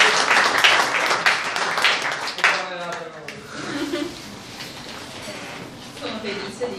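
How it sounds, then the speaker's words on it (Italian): An award ceremony audience bursts into applause for an athlete, loud scattered clapping in the first seconds that fades as a voice begins talking over the room. "quindi un doppio applauso per Elisa"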